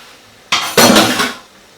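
A spoon scrapes and clanks against a metal pan while yogurt is stirred into chicken balti, a loud close metallic clatter lasting about a second.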